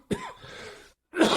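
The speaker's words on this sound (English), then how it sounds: "just me saying that is making me cough" A man coughs once sharply near the mic, followed by a short raspy throat sound, a pause, then another burst of coughing or throat clearing.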